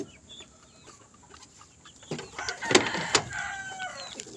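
Backyard chickens cluck at a coop, with soft scattered calls early on and a louder cluster of clucks and squawks in the second half, moderately near in an outdoor setting.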